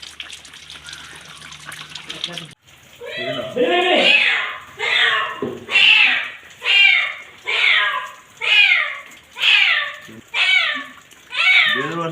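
A cat that fell into a well meows over and over, about nine loud, drawn-out cries in a steady rhythm, each echoing from the well walls after a brief noisy start.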